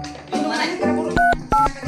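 Telephone keypad tones beep in quick succession, several short bright dual-tone presses near the end, mixed with background chatter and talk.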